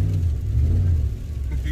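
A car on a snowy road during a February blizzard, its engine a loud, steady low rumble throughout, with a voice speaking over it.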